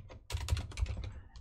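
Quick typing on a computer keyboard, a short close burst of soft clicking keystrokes in an uneven rhythm, heard alone and fairly quiet.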